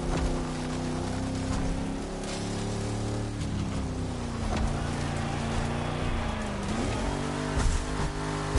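Car engine in The Crew Motorfest driven on a dirt road, a steady droning motor with shifting pitch and gear changes, moderately loud and continuous with rough road texture underneath.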